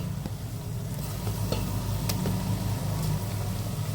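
Ingredients for barley porridge (nonbu kanji) sauté in a pan with a steady close sizzle, broken by occasional scraping clicks of stirring.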